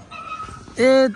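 Dogs whimper and yip at night in a rural area, a faint whine running through the background before a loud, close, sustained whimpering yelp near the end.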